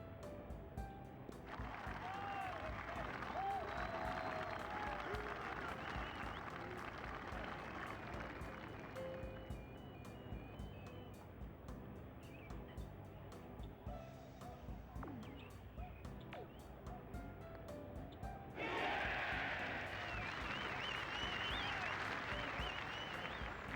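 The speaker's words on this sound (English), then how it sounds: "That is a very aggressive cheer. I have never heard this from a golf game before." Crowd cheering and applause from a golf video game rings out in long roaring bursts, loud and close, swelling, dropping back, then surging again near the end over a soft steady background.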